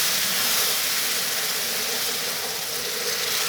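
Semolina and hot sugar syrup hiss loudly and steadily while being cooked together for suji halwa, a close, continuous broadband sizzle with no pauses.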